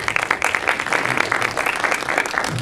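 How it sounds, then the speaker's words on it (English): A crowd at a film festival panel applauds the filmmakers, giving dense, continuous clapping at an even level that fills the whole stretch with no voices over it. "a round of applause for the filmmakers and their films"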